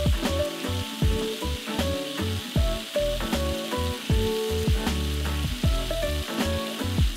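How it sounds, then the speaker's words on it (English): Ingredients browning in a hot pan, lobster cooking in butter nearby, with a loud continuous sizzle and frying crackle, broken by regular stirring scrapes, close and without talk. "you're gonna brown this on the bottom"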